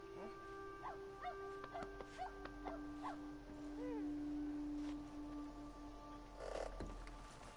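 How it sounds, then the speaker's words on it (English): A dog from the video game Red Dead Redemption 2 barks repeatedly and faintly from the game audio in a room, with a series of short barks and a longer drawn-out whine. "I know there's a dog you can hear, but it's not a real one."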